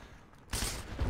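Gunfire in the war shooter Heroes & Generals, a sudden loud burst of shots erupting after a quiet moment and continuing to the end, with no talking.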